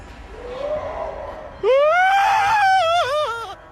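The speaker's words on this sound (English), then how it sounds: "Most in the comments are chuffed at this dude's terrified scream" A man's terrified scream bursts out loud and close, rising and wavering for about two seconds after a quieter strained cry before it.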